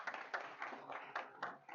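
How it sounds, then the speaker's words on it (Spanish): A short burst of clapping from a small group at a book presentation, several quick uneven claps close by, fading after a couple of seconds. "Recibámoslo con un aplauso."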